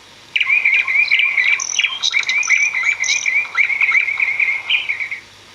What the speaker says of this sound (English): The birds were singing very loudly outside.